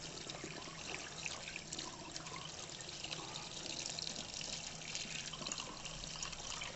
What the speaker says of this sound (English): Give it a good wash.